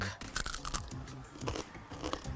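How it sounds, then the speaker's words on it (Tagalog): Crisp crunching and chewing of fried saba banana peel chips, a few close bites and chews at moderate volume with no talk. "Parang crackers, malutong."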